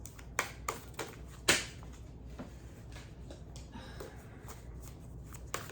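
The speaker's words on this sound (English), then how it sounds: "This deck is not the easiest to shuffle," Quiet riffle and flutter of a tarot card deck being shuffled, with a few sharp snaps of cards standing out, close and without talk.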